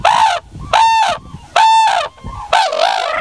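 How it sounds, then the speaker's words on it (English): Red-crowned cranes give loud, brassy calls in four long bursts with short gaps, strongly harmonic and trumpeting, close to the microphone. "This is red-crowned cranes."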